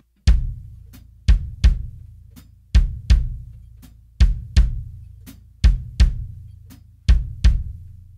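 A drum kit plays a foot pattern alone: deep bass drum thumps fall in a steady groove with sharp hi-hat chicks between them. Each hit is close and punchy and decays quickly, with no voices.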